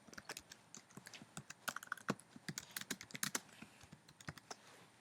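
Typing a plaque name on a computer keyboard, a close, quiet run of irregular key clicks in quick bursts with brief pauses, no voices.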